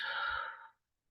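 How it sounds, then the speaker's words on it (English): A single deep breath let out slowly, a soft breathy exhale close up that fades into silence after under a second. "Deep breath in and out."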